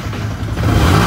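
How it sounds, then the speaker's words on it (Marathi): A Yamaha R15 V3 motorcycle engine runs after its ticking noise has been fixed, a loud, steady, close-up mechanical hum that rises slightly in intensity toward the end, with no voices. "आता गाडीचा आवाज ऐकवतो."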